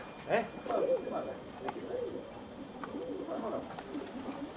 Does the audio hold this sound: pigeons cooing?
yes